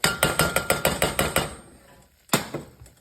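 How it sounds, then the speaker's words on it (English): A whisk beats flour into a pan for a cream soup base, a quick run of about eight even metallic taps that fades, then one more sharp clack, close by with no talk. "whisk it around, and then add a little bit more"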